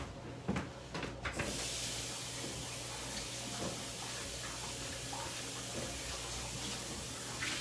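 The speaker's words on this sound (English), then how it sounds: "let me rinse this out real quick" A kitchen tap runs to rinse something out, a few soft clunks of handling giving way to a steady, fairly quiet hiss of flowing water that continues alone.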